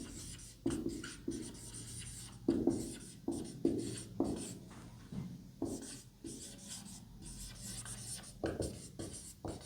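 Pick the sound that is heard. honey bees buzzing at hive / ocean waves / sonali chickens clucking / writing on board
writing on board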